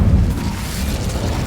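Incendio fire spell from Hogwarts Legacy, a steady, loud whooshing roar of flame with a low rumbling boom at the start, sustained without pause and no talking.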